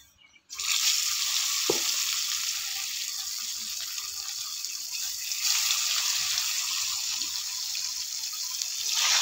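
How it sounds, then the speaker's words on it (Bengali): Bata fish frying in well-heated oil seasoned with turmeric and salt, a loud, dense sizzle that bursts in after a brief quiet start and crackles steadily throughout. "তেলটা ভালো করে গরম করে নিয়েছি। এবার মাছগুলো ভেজে নেব।"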